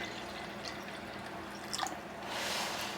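Water poured into a container for homemade bathroom cleansing wipes, a quiet close trickle with a few drips, swelling into a steadier, hissy pour near the end, with no talk.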